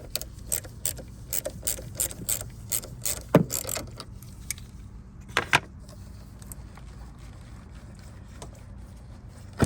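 A ratchet loosening the 10 mm nut on the negative battery terminal of a 2022 Hyundai Tucson, with rapid, fairly quiet pawl clicks in short bursts and small mechanical knocks in between.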